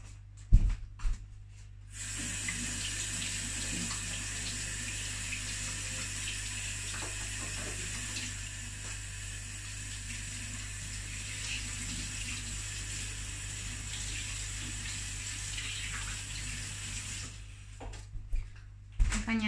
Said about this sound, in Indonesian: I'm gonna wash my hand